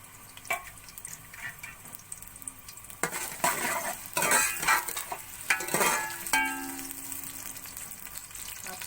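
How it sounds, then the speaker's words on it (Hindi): Onions browning in a hot pan for kaleji masala, with a continuous sizzle and frying hiss, punctuated by bursts of stirring and clinks of a spoon against the pan, close and fairly loud, without talking. "अब प्याज को ब्राउन कर लेंगे।"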